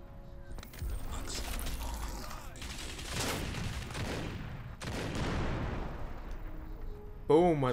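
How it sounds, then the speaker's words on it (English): Rumbling explosions and bursts of gunfire from the game Crysis roll continuously with a dense, chaotic texture, ending with a brief voice over the din. "you heard that explosion? It was right here next to me."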